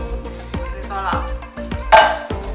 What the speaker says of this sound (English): Now we stir it